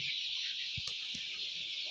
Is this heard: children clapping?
no